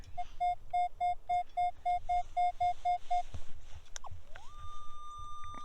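A metal detector sounds a steady series of short, evenly spaced high beeps, then stops; a brief rising electronic tone follows over faint rustling outdoors on snowy ground.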